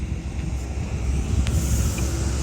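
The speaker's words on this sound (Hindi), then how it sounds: "तो यहाँ भी हवा भी बहुत ज़्यादा चल रही है" Strong outdoor wind blows steadily as a continuous broadband rush, with low rumbling buffeting against the microphone and no voices.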